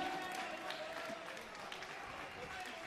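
A fired-up crowd at an MMA bout in Tarbes, with mountain views over the venue, cheers and applauds its champion in a steady, dense wash of noise that never lets up, with a voice talking over it.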